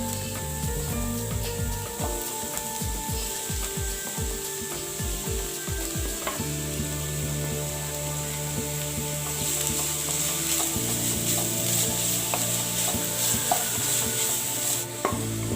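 Carrots and onion sizzle steadily in a frying pan, with a utensil scraping and stirring through them in bursts of quick rhythmic strokes over a constant hiss of frying.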